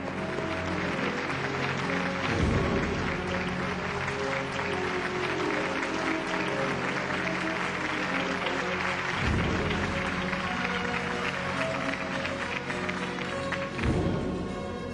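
Sustained applause from an audience at a banking awards ceremony, a steady dense wash of clapping that runs the whole time with slight swells, fairly loud and close, with music or tones faintly underneath.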